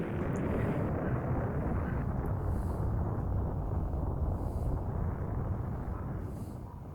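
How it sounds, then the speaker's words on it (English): A planet exploding in the Super Metroid video game, heard as a loud, sustained low rumbling roar that fills the whole stretch and fades slightly at the end, with no voices over it. "Now watch from the explosion."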